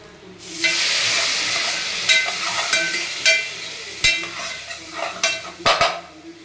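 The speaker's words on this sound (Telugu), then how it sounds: "ఇప్పుడు నేను చింతపండు రసం వేసుకుంటున్నా" Tamarind juice hits a hot frying pan with a sudden loud sizzle that rises and then stays bubbling. Scattered clinks of a utensil against the pan cut in near the end.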